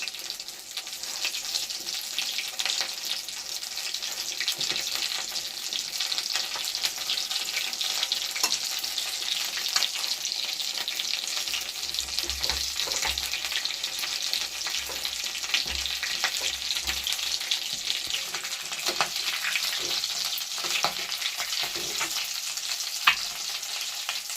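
Eggplant slices fry in a pan with a continuous bright sizzle and crackle, close and steady, with occasional scraping and stirring noises and no talking.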